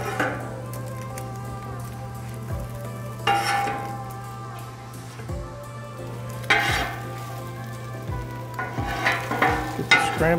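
Scrambled eggs sizzle steadily on a Camp Chef FTG600 flat top griddle, with a spatula scraping and stirring in several separate passes over the constant hiss.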